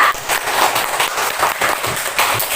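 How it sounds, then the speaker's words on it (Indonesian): Students in a classroom clap for their classmates, a dense, loud burst of applause from the whole class that carries on evenly throughout. "tepuk tangan untuk kawan-kawan kita"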